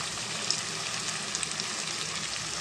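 Fried okra pieces tumble into a pan of sizzling onion-ginger-garlic paste, a steady close frying hiss with a few sharp crackles and pops throughout, no voices.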